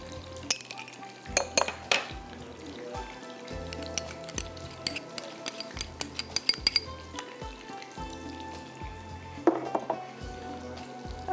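Ketchup, mustard paste and mayonnaise are stirred together in a bowl with a spoon, producing soft, irregular scraping and light clinks of metal against the bowl, close by and without any talking.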